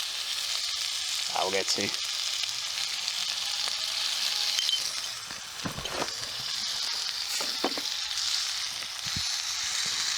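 Chili oil with seeds and spices sizzling in a pan over a charcoal fire pit, a steady close crackling fry with occasional stirring clatter and a brief voice.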